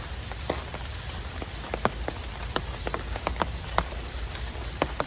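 Steady rain falls on a village morning, a dense even patter with scattered sharper drops striking nearby surfaces, no voices over it.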